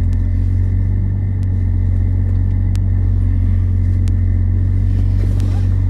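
A car out on a quick test lap gives a steady, loud, close low rumble of engine and road noise that holds constant throughout, with a few faint clicks and ticks over the drone.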